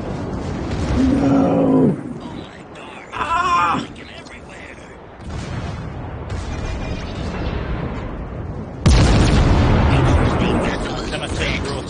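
Torpedo explosions in a naval warship battle game, heavy booming blasts and rumbling roars that swell and drop, with a voice talking over the action.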